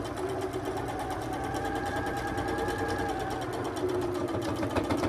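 A sewing machine runs continuously, stitching a quarter-inch seam on a quilt block, a fast even mechanical whir and rapid needle clatter, close and steady throughout.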